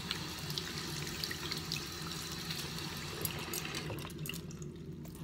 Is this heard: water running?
yes